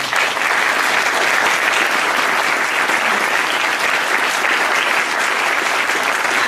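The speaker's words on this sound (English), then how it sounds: "So let's applaud them all." An outdoor Darwin Day gathering applauds steadily. The clapping is dense and even and holds at a constant level throughout, with no speech over it.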